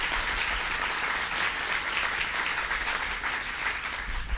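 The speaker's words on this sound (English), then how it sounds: "Let's give him a round of applause." A crowd claps at Governor Cuomo's public announcement event in Niagara Falls, a dense, even wash of applause holding steady for several seconds, with no voices over it.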